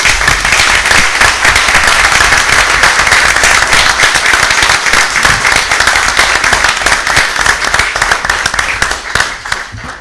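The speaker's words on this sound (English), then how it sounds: "they're clapping for you" Sustained applause fills a town board voting meeting after a congratulated vote, dense and steady clapping from a room of people at close range, thinning toward the end.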